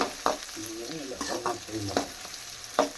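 Food fries in hot oil in a pan with a soft sizzle, broken by intermittent scraping stirs and clinks. Quiet voices murmur in the background.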